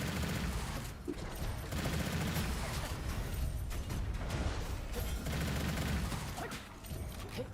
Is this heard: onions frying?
no